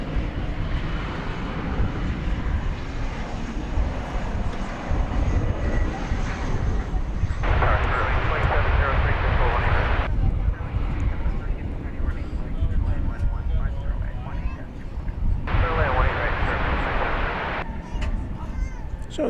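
An American Eagle CRJ 900 regional jet at DFW Airport rumbles and roars continuously, the engine noise surging louder in two stretches, with wind buffeting and people talking over it.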